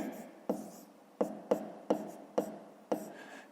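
Math for a fifth-grade exercise is written on a board, with about seven separate sharp strokes and taps spaced unevenly and heard up close, with no talking.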